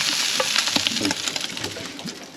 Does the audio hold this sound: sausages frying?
yes